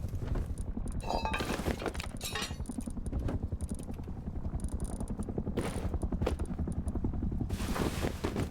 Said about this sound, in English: Ooh, a horse.